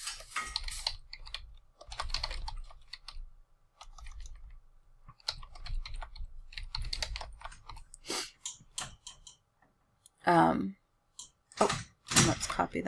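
Keys clatter on a computer keyboard in uneven bursts of close typing, separated by short pauses, with a few sharper clicks near the end, while a person talks quietly.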